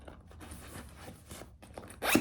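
Zipper pulled on the exterior zipper pocket of a handmade Agustina bag, a soft rasping slide for about two seconds that ends in a louder, quick zip at the close.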